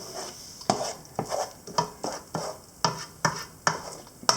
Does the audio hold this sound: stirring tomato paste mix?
yes